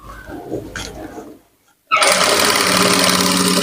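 A sewing machine stitches a fish-cut umbrella lehenga, starting abruptly after a brief silence and running loud, fast and steady nearby. Quieter handling noises come just before.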